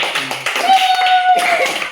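Clapping and light tapping for a player who finished a jump-and-pop balloon challenge, quick close hits under loud excited talking.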